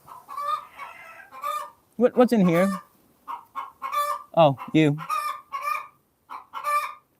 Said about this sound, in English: Dang chickens making so much noise.